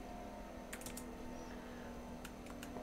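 Keys clack on a computer keyboard as values are typed into CAD design software, in two brief bursts of a few faint presses over a steady low hum.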